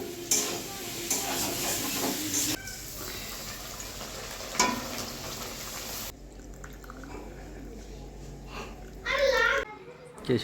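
Aloo dum and luchi being cooked for a morning breakfast, with stirring and sizzling from a pan heard close by under a voice and other chatter, with the kitchen noise thinning out partway through.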